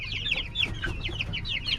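Oriental breed chickens cluck close by on a free-range farm in Quezon City, a quick series of sharp, repeated clucks in an uneven rhythm.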